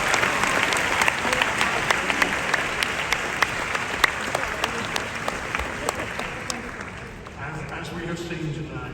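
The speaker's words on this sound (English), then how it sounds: "Give her a big round of applause for that." Graduation ceremony audience giving a big round of applause, loud sustained clapping from a large crowd with sharp individual claps standing out, fading slightly near the end.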